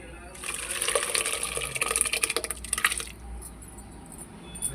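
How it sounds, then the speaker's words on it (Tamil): Lentil cooking water pours into a pot of hotel-style sambar as a continuous, close splashing stream for about three seconds, then stops, leaving quieter stirring and kitchen sounds. "இப்போ நம்ம பருப்பு தண்ணியை சேர்த்துக்கலாம்."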